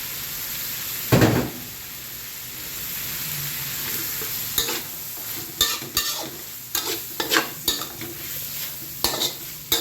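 Minced pork and shrimp stir-fried with holy basil in a pan, with scraping stirs and clinks of a utensil against the pan over a steady sizzle, and one loud clatter early on.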